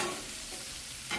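Cheesesteak filling fries in a pan with a soft, steady sizzle, faint and close, ending in a brief scrape as the mixture is stirred.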